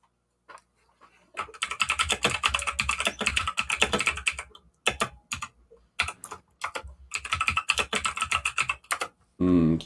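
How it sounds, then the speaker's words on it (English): Computer keyboard typing in bursts of rapid, close clicks with brief pauses between runs, fairly loud and dry. "Keyboard."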